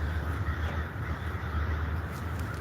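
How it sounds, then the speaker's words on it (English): Crows caw outdoors, their harsh calls carrying from some distance over steady background noise, with no talking. "Crows, if y'all can hear those"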